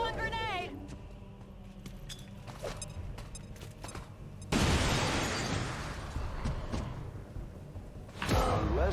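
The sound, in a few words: grenade explosion in the video game XCOM 2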